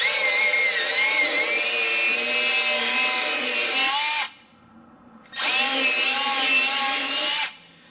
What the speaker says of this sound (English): I'm going to go in straight, and I'm just going to go sideways to ream out the sides